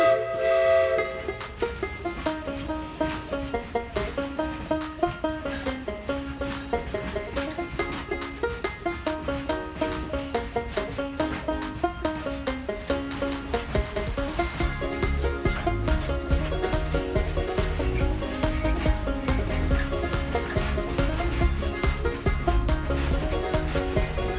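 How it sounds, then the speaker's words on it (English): Train sounds in a children's show, with rhythmic chugging and bright, tonal whistle-like blasts over a steady musical backdrop, loud and continuous throughout. "give me a giant choo-choo"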